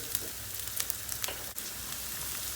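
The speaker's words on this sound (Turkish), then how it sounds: "Soğanları şöyle 2-3 dakika bir kavuracağız." Onions sautéing in a hot pan, a steady close sizzle and crackle with occasional faint stirring scrapes, no talking.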